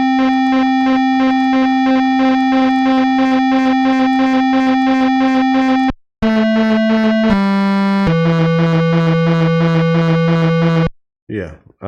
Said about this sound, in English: now you hear more of a full range pulse width modulation